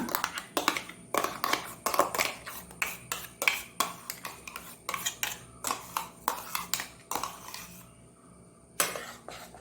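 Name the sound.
mixing steamed Nendra banana paste in a bowl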